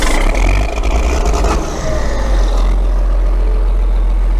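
A tractor's engine runs loud and close, a heavy low rumble and roar that surges early on, then settles into a steady, rough idle.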